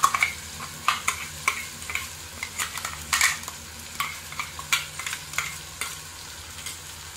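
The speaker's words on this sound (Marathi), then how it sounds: "तेल सुटेपर्यंत छान आपण ही परतून घेऊया" Sesame-lentil paste and tomatoes sautéing in oil, a soft continuous sizzle broken by frequent close scrapes and taps of a spoon stirring against the pan, with no voices.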